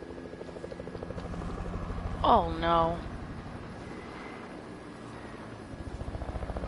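A helicopter in a video game gives off a low, steady rotor hum under the scene, a continuous churning drone behind a brief spoken exclamation.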